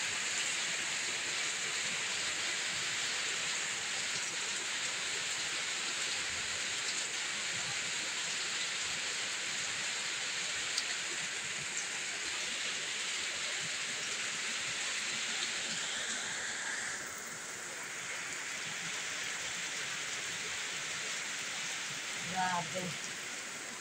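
Heavy rain pours down steadily outdoors, a dense, loud hiss of water on surfaces that holds almost unchanged throughout, easing slightly near the end.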